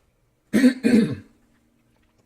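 A person clears their throat twice in quick, rough bursts close by, followed by silence.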